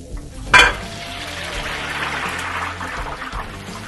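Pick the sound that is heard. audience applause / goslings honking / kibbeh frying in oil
kibbeh frying in oil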